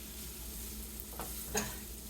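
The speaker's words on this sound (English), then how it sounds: "that lovely sizzle" Steady sizzling of food frying in a pan, a continuous crackling hiss with a few brief pops and clinks near the end.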